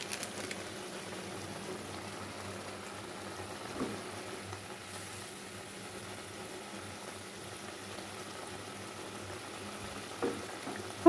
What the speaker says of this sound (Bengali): এখন ঝোলটাকে ফুটতে দেব।